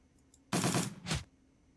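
Two quick bursts of gunfire from the Shadowrun: Dragonfall video game, the first longer, the second a brief follow-up, loud against a quiet background.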